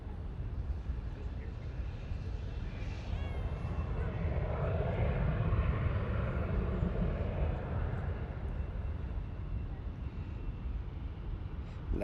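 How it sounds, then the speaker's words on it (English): A 19-year-old Embraer E145 regional jet arriving at Charlotte Douglas International Airport from Lynchburg, Virginia gives a steady, moderately loud engine roar that swells slightly midway, heard continuously from a distance. "This one here is coming out of Lynchburg, Virginia. An E145"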